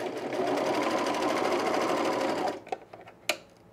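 A serger sewing machine stitching cargo shorts runs in a steady, close, fast buzz for about two and a half seconds. It then stops, followed by a few soft clicks and one sharp tap.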